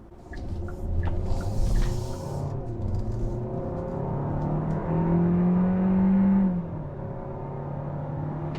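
A 2021 Kia K5 all-wheel-drive mid-size sedan with its base engine pulls up to speed, a steady low engine drone rising slightly in pitch, heard from inside the cabin at moderate loudness.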